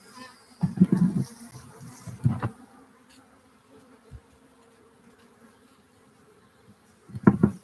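Honeybees buzzing near and loud during a spring hive installation, the drone rising in a few strong bursts and then fading to a quiet hum before surging again.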